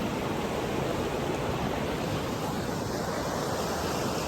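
Clear blue river water in Nubra Valley, Ladakh, flowing calmly toward the Shyok river, heard as an even, unbroken rushing wash without pauses or voices.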